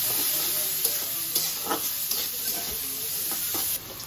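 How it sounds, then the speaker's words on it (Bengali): Cabbage stir-frying in a home kitchen wok, a steady close sizzle with scraping stirs and clinks of the spatula throughout, with no voices. "তো বাঁধাকপি ভাজা হয়ে গেছে"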